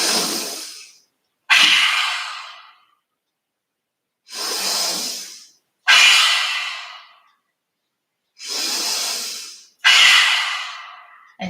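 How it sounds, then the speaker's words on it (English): Yoga breath work with forceful exhales through the mouth, tongue out and eyes wide: three long, loud breaths, each a quieter inhale followed by an effortful hissing exhale, close and alone with no talk. "we will breathe in, and when we breathe out, the tongue comes out of, with effort, comes out of the mouth, and the eyes open wide"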